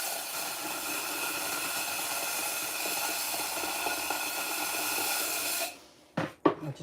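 Steady broadband whir of a spinning pottery wheel runs loud and even for several seconds while clay is thrown, then cuts out abruptly, followed by a few brief knocks and handling sounds.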